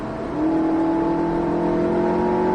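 An Alpine A110S on the Circuit du Var goes to full throttle. The engine note climbs steadily as a loud, rising whine with a rumbling exhaust beneath it, heard from inside the car.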